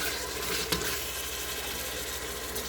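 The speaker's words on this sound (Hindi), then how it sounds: "हम इसको अपने अदरक लहसुन की पेस्ट के साथ ही हम इसको फ्राई करेंगे" Boneless chicken pieces fry with ginger garlic paste in a pan, a steady close hiss and sizzle with a brief clatter early on and no talk.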